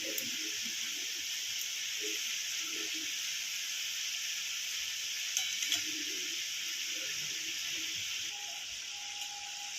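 Nimki dough snacks frying in hot oil, a steady bright sizzle and hiss that runs unbroken from start to finish, with a few faint clinks beneath.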